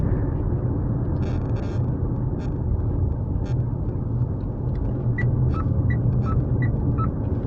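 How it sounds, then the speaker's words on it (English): A Mitsubishi Outlander PHEV accelerates up a small hill after a roundabout, a steady, close cabin rumble and road roar throughout, with a few faint high tones near the end. "Going through the roundabout and then accelerating up this little hill."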